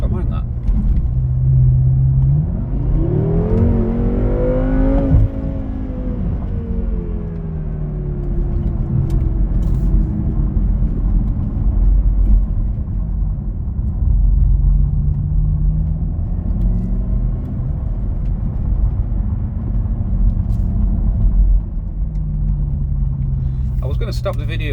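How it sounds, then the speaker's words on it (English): A BMW F06 M6 4.4 engine drones steadily from inside the cabin, with a rising and falling gear whine as it accelerates and shifts, and a low rumble throughout. "See what I mean? It sounds a bit gear whiny, doesn't it?"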